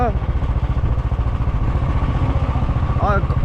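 A Royal Enfield Bullet motorcycle engine idles close by with a steady, thumping low rhythm, while a voice speaks briefly over it near the end.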